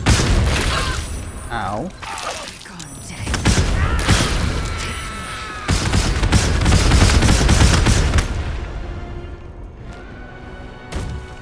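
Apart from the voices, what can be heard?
explosions in video game Baldur's Gate 3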